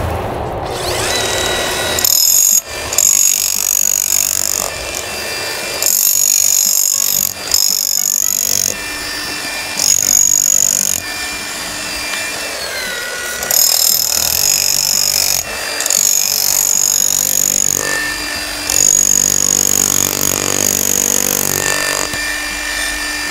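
An electric shovel digs out the hard roots of a tree stump at an insect museum, its motor whirring and ratcheting in repeated loud bursts with short pauses between them, up close and with no talking.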